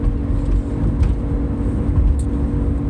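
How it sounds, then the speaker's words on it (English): Car cabin noise from a noisy blower fan and a worn wheel bearing, a constant low droning rumble with a steady hum running underneath, heard alone without talk. "I'm sorry about the sound, but with the blower and the wheel bearing and everything"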